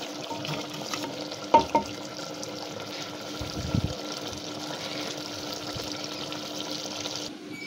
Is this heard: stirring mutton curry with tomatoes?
yes